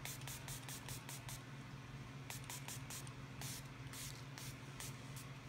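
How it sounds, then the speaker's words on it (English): Quick, soft spray bursts from a Milani Make It Last setting spray pump bottle misted onto a face come in two rapid series of several pumps each, close and crisp over a low steady hum. "I'm going to spray my face down with my Make It Last."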